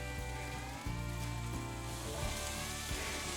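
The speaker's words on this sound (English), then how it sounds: "Got a nice little sizzle going there" Pork tenderloin sizzles steadily over charcoal with applewood smoke on a Hasty Bake Legacy grill, a soft continuous crackle over a low background hum.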